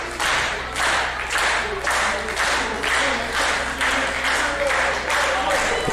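A wrestling arena crowd claps in a steady rhythmic beat, the pulses regular and loud, with commentary voices speaking over the clapping throughout.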